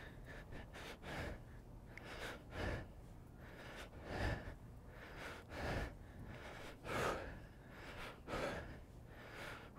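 Heavy, labored breathing during a no-equipment Tabata HIIT workout, with loud gasping inhales and exhales repeating about every second or two, close to the microphone and without speech.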